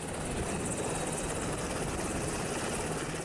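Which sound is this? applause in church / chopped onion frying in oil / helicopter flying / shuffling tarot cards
helicopter flying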